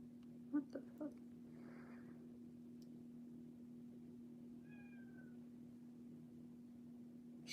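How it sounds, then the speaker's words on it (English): A few short, faint meows from a cat near the start, then a thin squeaky call midway over a steady low hum. "She's meowing again."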